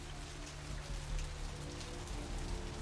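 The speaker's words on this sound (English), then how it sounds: "Ah, love rain." Steady rain pours in the video game Vampire the Masquerade Bloodlines, a dense, even hiss of drops spattering on surfaces that stays constant throughout with no voices.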